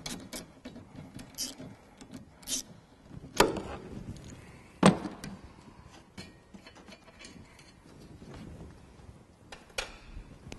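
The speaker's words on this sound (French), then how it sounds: "À l'aide d'un petit cliquet avec une douille de 10, on va extraire." Small ratchet with a 10 mm socket loosening bolts on a Renault Scénic 2 dCi during an air filter change: quiet clicking ratchet strokes with a couple of sharper knocks, close up and without talk.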